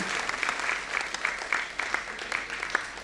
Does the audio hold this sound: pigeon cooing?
no